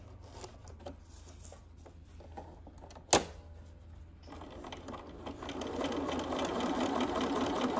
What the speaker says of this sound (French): votre aiguille va pouvoir piquer à 1 cm du bord